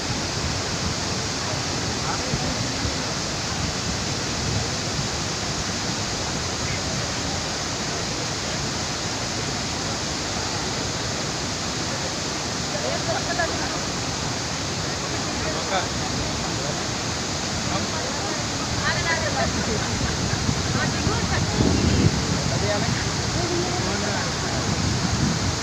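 Bogatha waterfall in Bhupalpally pours in a steady, loud, broadband rush of falling water that fills the whole scene without pause, with faint voices buried beneath it.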